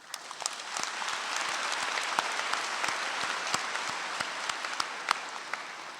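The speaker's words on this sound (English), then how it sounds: "Please join me in one big round of applause for all these student award winners." Ceremony audience applauding student award winners at a college hooding ceremony, sustained clapping from many hands with distinct individual claps standing out, lasting several seconds.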